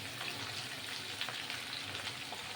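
Panch phoron spices fry in hot oil for a Bengali niramish labra, a steady, close, crackling sizzle that holds evenly throughout with no talk.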